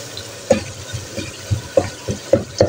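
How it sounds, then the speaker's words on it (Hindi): Masala spices frying in a pan with oil, a soft continuous sizzle broken by a series of stirring scrapes and knocks at an uneven pace, close up with no talking. "ये देखिए मसाले को अच्छे तरीके से फ्राई कर लिया है"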